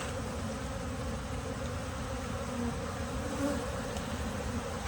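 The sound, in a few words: buzzing honeybees in a hive during formic acid treatment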